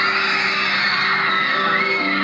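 Screaming concert crowd at a performance, a loud sustained wash of high-pitched shrieks and yells filling the whole stretch without a break.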